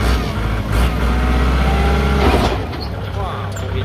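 A used Kubota L5018 tractor, fitted with a new blade and a harrow, running in gear: a loud, steady low diesel drone that eases slightly near the end, with someone talking over it.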